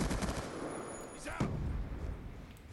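Automatic gunfire from the video game Black Ops 2, a dense burst of rapid shots in the first part, one sharper report near the middle, then steady fire continuing underneath.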